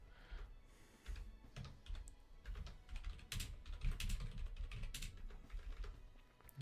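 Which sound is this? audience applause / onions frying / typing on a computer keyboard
typing on a computer keyboard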